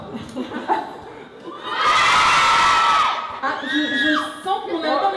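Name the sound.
audience of children screaming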